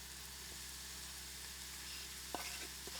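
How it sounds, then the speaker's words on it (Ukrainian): Steady sizzling of grated carrot and onion frying in a pan, with a few brief stirring scrapes near the end. "Натерту морквину також відправляємо до цибулі на пательню смажитись"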